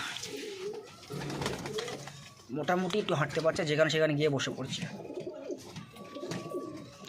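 A pigeon coos in soft repeated throaty notes, heard close by while a person talks over it.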